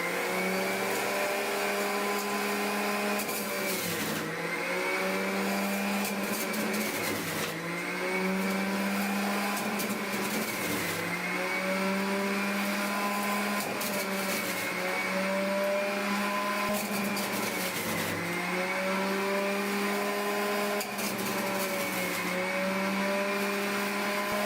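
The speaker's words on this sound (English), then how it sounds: "Next, I'm going to be juicing 2 large oranges." A Hamilton Beach Big Mouth juice extractor runs loud and continuous while it juices quartered oranges. Its motor whine dips and recovers again and again as each piece is pushed in.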